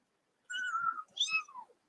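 A young bottle-fed kitten gives two short, faint meows in quick succession, thin and high-pitched, close by in a quiet room with no talking.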